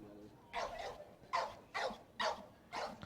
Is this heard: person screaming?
no